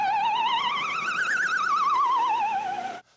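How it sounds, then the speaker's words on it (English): An ambulance siren warbles in a wavering, aria-like melodic line with fast vibrato, rising and then falling in pitch, loud and steady for about three seconds before cutting off abruptly. "our sirens could sound like a Puccini aria performed by a flustered parakeet"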